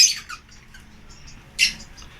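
A bird held in the hand squawks while a leg band is fitted, two sharp, close, loud harsh calls with short chirps between them over quiet background.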